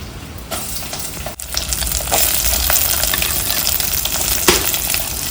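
Finely chopped onions sizzle steadily in hot oil in a pan during village cooking of a papaya stir-fry, a continuous close frying hiss with occasional stirring clicks.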